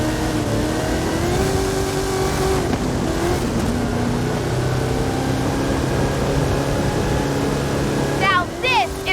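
A Hot Wheels truck in Forza Horizon 5 roars through a stunt run, its steady engine drone loud and continuous with rising harmonic whine, and a burst of higher-pitched revving near the end.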